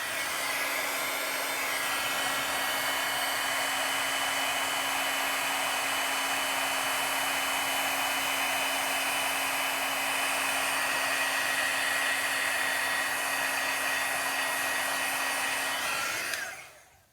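A heat tool blows steadily at close range for about sixteen seconds, heating embossing powder stamped with a Versamark pen, a loud continuous hairdryer-like whoosh with a faint whine that cuts off abruptly at the end.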